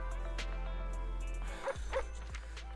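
A dog barks a few times with yips and whimpers in the video game Zenless Zone Zero, fairly close and over a steady game background hum.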